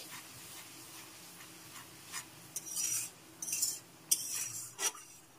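A spoon scrapes and clinks against a pan while stirring tomato puree with ginger and green chili paste for a vegetarian potato curry, soft irregular strokes growing busier toward the end, quiet and close.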